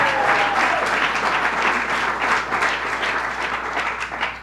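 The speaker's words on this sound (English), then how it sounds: "Bay Park, Fran, let's hear a more hearty applause for the neighborhood." Crowd at an outdoor governor's announcement event gives sustained, fairly dense applause and clapping throughout, steady in level, with no speech over it.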